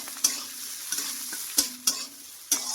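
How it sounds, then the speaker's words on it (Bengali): Onion frying in a pan for piyaj posto, a soft steady sizzle broken by several sharp scrapes and clacks of a spatula stirring, close and alone. "পেঁয়াজটা লাল করে ভেজে নেবো একটু।"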